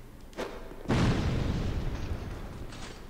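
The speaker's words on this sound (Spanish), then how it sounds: "un poquito de explosión." A bomb goes off in the Dark Souls 2 video game: a small pop, then a loud booming blast that rumbles and slowly fades, heard alone without talk.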